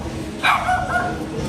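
A dog at a busy popup market in Khao Lak, Thailand gives a short burst of barks and yips close by, standing out above the murmur of the market crowd.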